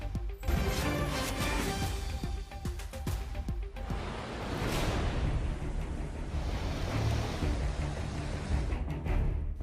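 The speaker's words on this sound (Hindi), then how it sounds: "नदी जब रौद्र रूप धारण करती है तो ऐसा ही मंजर सामने आता है। देखिए पानी किस तेज रफ्तार से बढ़ता जा रहा है।" A raging flooded river during monsoon rains in India, its water rushing fast with a loud, continuous roar and crashing surges, heard without talk.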